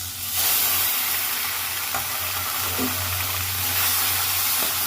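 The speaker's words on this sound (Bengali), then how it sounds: "মাছগুলো ভাজা হয়ে গেলে দিয়ে দেবো পেস্ট করে রাখা থোড়গুলো" Small prawns frying in a pan before banana stem paste is added, giving a steady, close sizzle and hiss with occasional stirring scrapes and no talk.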